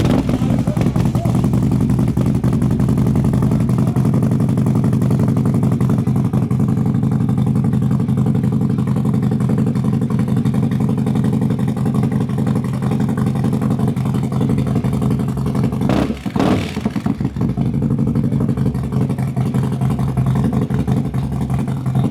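A Harley-style motorcycle engine with a Feuling 592 cam, making 149 horsepower, rumbles loudly and continuously nearby, holding a steady throaty drone with a brief surge near the end.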